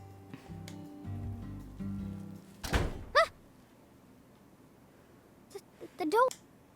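In Deadly Premonition 2, a single heavy thud of a door shutting lands midway, short and loud against a quiet background, with voices speaking briefly before and after it.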